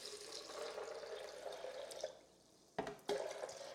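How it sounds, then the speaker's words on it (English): Water pouring into a blender jar, a steady close splashing stream that briefly cuts out, followed by a couple of short sloshes and drips. "And then I'm going to add in my water."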